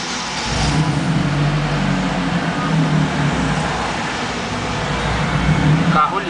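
The supercharged engine of a Chevrolet Astra GSI fitted with FuelTech fires up and settles into a steady, close idle near 900 rpm, a continuous low rumble lasting throughout.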